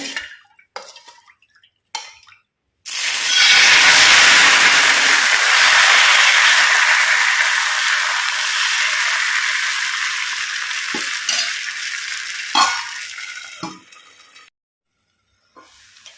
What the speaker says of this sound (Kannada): ಈಗ ಗ್ಯಾಸನ್ನು ಪುನಃ ಲೋ ಫ್ಲೇಮಿಗೆ ಇಟ್ಟು ಈಗ ನೋಡಿ ನಾನು ಈ ಸೊಪ್ಪಿನ ದೋಸೆ ಹಾಕ್ತೇನೆ